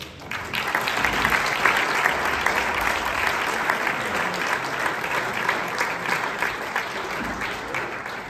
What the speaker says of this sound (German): Noch einen Applaus